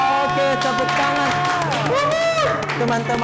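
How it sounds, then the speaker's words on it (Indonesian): An audience at a school madrasah stage event applauds and cheers, a wash of clapping under sustained music and singing voices, fairly loud and continuous. "Oke, tepuk tangan"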